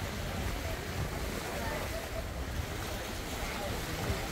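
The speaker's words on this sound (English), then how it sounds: "Yeah, you can watch the waves." Ocean waves wash steadily below the deck of the Carnival Breeze cruise ship, a continuous broad rushing surf mixed with wind noise on the microphone, with no clear breaks.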